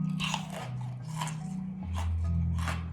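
Crisp crunching bites into freeze-dried Earth jelly candy with a meringue-like texture, several sharp close crunches in an uneven rhythm over a low steady hum.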